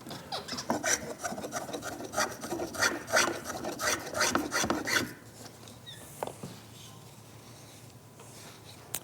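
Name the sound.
scraping a wooden tool handle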